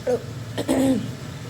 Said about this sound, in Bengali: শুকনো লঙ্কা ভাজার জন্য একটু কাশি হচ্ছে